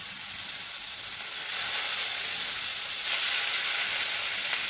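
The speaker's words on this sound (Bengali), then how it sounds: "কড়াইতে তেল দিয়ে দিছি, গরম হয়ে গেছে, মাছগুলো দিয়ে দিই, মশমশা করে ভাজবো।" Fish sliding into hot oil in a wok and frying crisp, a loud continuous hissing sizzle that surges twice, with no voices.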